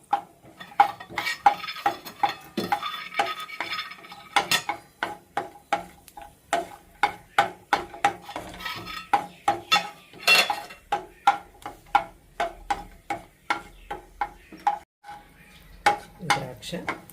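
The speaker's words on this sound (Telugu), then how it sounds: "ఇప్పుడు జీడిపప్పు, ఈ లో ఫ్లేమ్లోనే వేయించుకుందామండి" Cashews frying in a pan over a low flame while a metal spoon stirs them, giving a rhythmic series of sharp clinks and scrapes against the pan over a faint sizzle.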